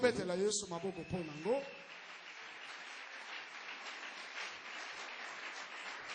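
A church congregation breaks into steady, dense applause after a voice briefly speaks, the clapping continuing evenly and fairly softly to the end.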